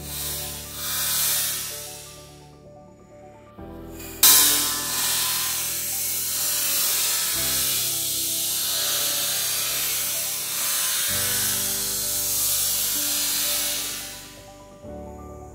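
Metal tubing being cut and ground while converting a tubing bender to an M625 setup, a loud, steady broadband grinding hiss that runs almost continuously, with a sharp bite near the start and brief pauses between passes.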